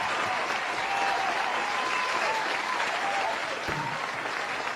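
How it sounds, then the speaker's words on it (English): A steady, even applause from a crowd of listeners at an English lesson, a continuous wash of clapping that keeps a constant level for several seconds with no talk over it. "Please, a round of applause to you."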